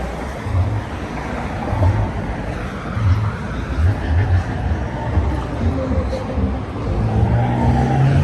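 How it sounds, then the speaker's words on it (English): A McLaren sports car moving through dense New York City traffic, carried as a steady, loud broadband road rumble with wind-like noise that swells and dips slightly throughout, with no clear speech. "Oh, is that a McLaren? Yes, it is."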